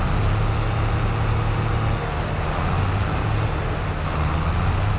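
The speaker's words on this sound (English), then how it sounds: "Like a traffic jam of tractors." Tractor engines idling and rumbling together in Farming Simulator 22, a dense, steady low drone of several motors bunched up like a traffic jam, loud and continuous with slight shifts in pitch.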